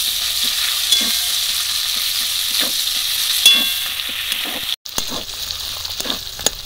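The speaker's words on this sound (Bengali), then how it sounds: "পেঁয়াজ আর তেল সব একসঙ্গেই ভাজা হয়ে যাবে।" Onion, five-spice and slit green chillies sizzle steadily in pangas fish oil, with a continuous close frying hiss broken by rhythmic stirring scrapes and a brief pause near the end.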